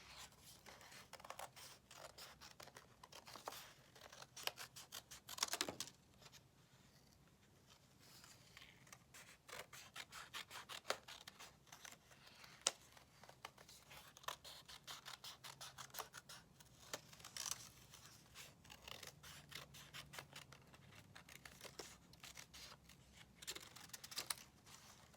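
Scissors snip through paper again and again, quiet close crisp cuts in irregular bursts over a faint background hush.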